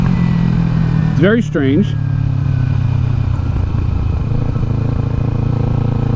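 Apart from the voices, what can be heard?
Kawasaki Ninja 300 motorcycle accelerating in first gear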